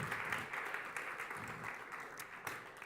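An audience at a startup demo afternoon in Estonia claps steadily, a fairly faint, even wash of applause that carries on without pause.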